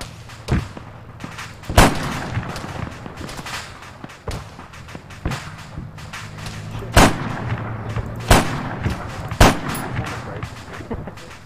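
Gunfire in the Arma 3 video game during an airfield assault: sharp, loud single shots and thuds crack out irregularly over a rumbling combat backdrop, some close and some farther off.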